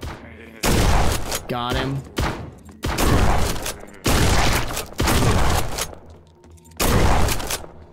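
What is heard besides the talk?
revolver gunshots in the video game Forgive me Father 2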